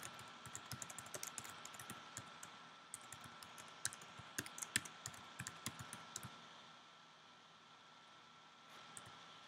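Fingers type on a computer keyboard, a string of faint, quick clicks and taps in irregular bursts over quiet background hiss, tapering off toward the end.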